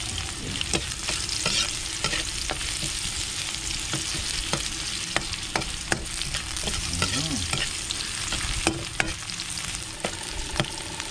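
Vegetables wilting in a hot pan before wild dove meat goes in, a steady dense sizzle with repeated scraping stir strokes and scattered clinks, close and loud with no talk.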